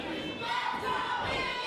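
Wrestling arena crowd in Logan Square at a women's championship match, divided between two competitors, roaring and chanting in a dense, continuous wall of voices throughout the short stretch.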